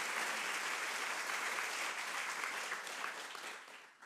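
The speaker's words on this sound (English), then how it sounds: "that deserves an applause." Sustained applause from a live audience at a conversation with Palestinian doctor Ghassan Abu-Sittah, dense and steady for several seconds before gradually thinning and fading out.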